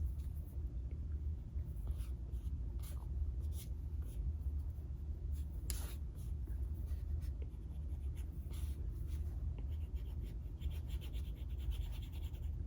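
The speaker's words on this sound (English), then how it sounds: "And now we can erase." An eraser rubs across a drawing on a coloring page in a close, continuous scratchy scrubbing, with a low rumble underneath and a few sharper strokes.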